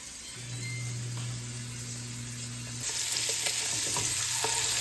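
Braciolone, Italian rolled meat, browning in a hot pan with a steady sizzle that swells louder partway through, with a constant hum underneath and a few small clinks.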